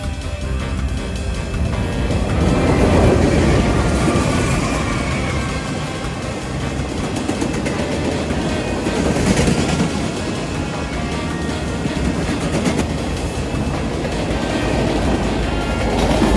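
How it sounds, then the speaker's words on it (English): A Norfolk Southern auto rack freight train rolls past westbound with a rear distributed power unit, a loud, steady rumble of wheels and rail clatter filling the whole stretch close by, with no talk. "this one is an NS auto rack train heading westbound"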